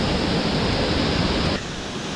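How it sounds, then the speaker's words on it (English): Matigol Falls in North Cotabato, Philippines, a long chain of waterfalls cascading into pools, producing a loud, steady broadband roar of rushing water that drops off sharply partway through. "There is 500 meters of waterfalls here, cascading into pool, into waterfall, into pool"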